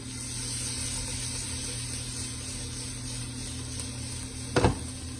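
Garlic sizzling in frying oil before beef is added, a steady, even hiss that runs unbroken throughout, with a brief louder crackle near the end and no voices.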